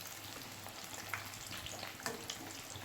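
Chicken pieces frying in a pan for dum fried chicken, a faint, steady sizzle and crackle of hot oil with a few soft pops, heard quietly and close without speech.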